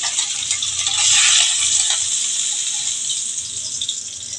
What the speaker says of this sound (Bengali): এখন আমি ওই তেলে বেগুনগুলো দিয়ে দিচ্ছি